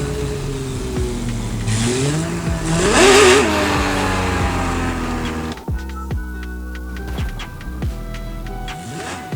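A Porsche 911 GT3 RS with a naturally aspirated engine revs loudly in a car parking driving game, climbing through repeated rises in pitch to a peak, then settling into quick blips and stabs of throttle, with no talking.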